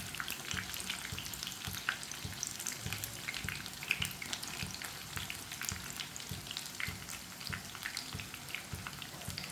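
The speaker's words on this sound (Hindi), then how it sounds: "बैंगन को ना दोनों साइडों से अच्छी तरह फ्राई करना है ताकि बैंगन हमारे कच्चे ना रहें" Brinjal (eggplant) slices fry in oil in a pan, giving a steady, close crackling sizzle with small pops throughout and no one speaking.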